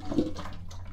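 Water splashes and trickles briefly as it is poured onto soil in a plant pot, close and soft, without voices.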